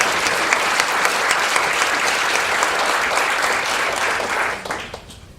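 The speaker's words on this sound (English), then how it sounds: "if we could give a round of applause all the way now" Warm, dense applause from an audience at a 2016 volunteer reception, sustained and loud before tapering off near the end.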